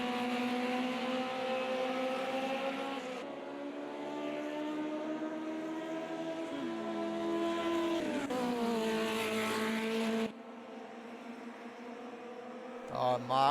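A train of race cars in a 1971 Monza Formula Junior round of a racing game drones steadily past, engine tones rising and shifting as each car follows, with a commentator talking over them.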